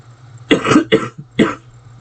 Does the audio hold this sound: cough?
yes